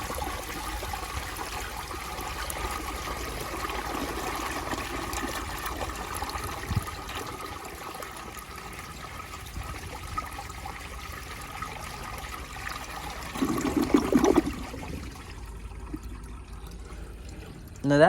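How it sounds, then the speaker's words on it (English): A 1972 Kohler Wellworth toilet flushing: a long stretch of trickling and running water with a brief louder surge near the end, heard fairly close. "I just like to flush on this toilet."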